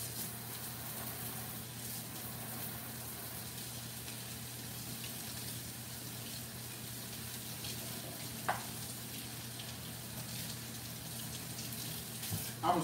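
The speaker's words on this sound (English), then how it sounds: "I was washing it off a little bit." A kitchen tap runs steadily over cauliflower being rinsed, a faint, even wash of water with a soft thump or two near the end.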